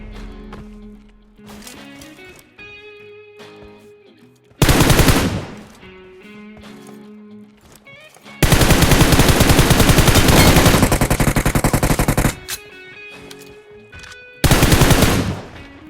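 M416 assault rifle in BGMI (PUBG Mobile), firing in loud full-auto bursts: one short spray, a long sustained burst of about four seconds, then another short burst, with quieter in-game ambience and distant noises between them.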